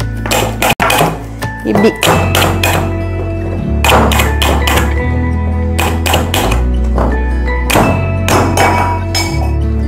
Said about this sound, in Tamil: நம்ம நல்லா குலுக்குவோம்